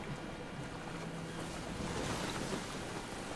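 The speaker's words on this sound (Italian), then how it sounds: "È sulla barca in mezzo all'oceano" Ocean waves wash steadily around a boat far out at sea in the video game Beyond: Two Souls, a constant soft roar of surf mixed with wind, faint and unbroken with no voices.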